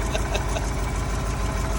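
A Loadstar truck engine idles steadily after brake booster and vacuum line repair work, a loud, close, continuous low rumble with a regular knocking pulse and no voices.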